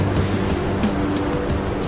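Stormy North Sea surf rolls in as a steady, dense roar of breaking waves, loud and continuous with periodic hissing surges, no voices present.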